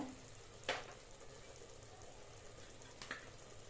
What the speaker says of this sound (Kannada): ಅಷ್ಟೇ ಹಾಕ್ಕೊಂಡು ಚೆನ್ನಾಗಿ ಫ್ರೈ ಮಾಡ್ಕೊಳ್ಳಿ